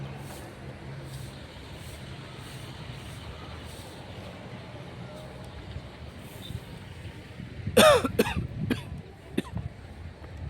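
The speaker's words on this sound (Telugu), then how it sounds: "ఏసీలో రావడం వల్ల దగ్గు వస్తుంది తప్ప" A single person coughs in a short burst of several harsh coughs near the end, over a quiet background of distant traffic rumble.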